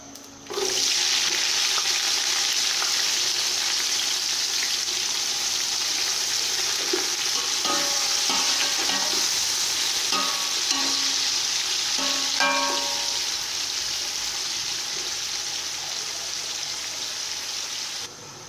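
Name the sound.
onions frying in oil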